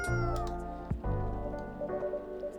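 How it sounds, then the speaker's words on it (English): A cat meows in the video game Coffee Talk 2, two or three drawn-out, close meows over soft background music and light rain. "It's gonna be a cat, isn't it?"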